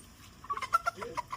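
Chickens on a farm give a quick run of soft, choppy clucks, several short bursts close together in a quiet, nearby setting.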